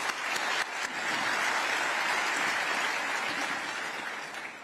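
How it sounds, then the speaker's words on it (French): A large audience at an African CEO summit forum in Côte d'Ivoire applauds for Prime Minister Robert Mandé, a broad, even wash of clapping that swells quickly, holds steady and fades slightly at the end. "je voudrais que vous lui adressiez un applaudissement également"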